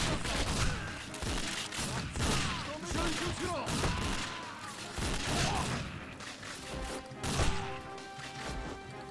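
Gunfire in the Xbox game 007: Nightfire from 2002, with rapid overlapping shots and crashes in dense bursts over a steady background, along with a voice speaking.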